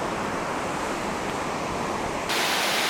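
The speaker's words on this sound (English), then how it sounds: "There's that waterfall happening over there." Waterfall at Gorges State Park, a steady broadband roar of falling water, loud and unbroken, with a slight shift in tone near the end and no voices.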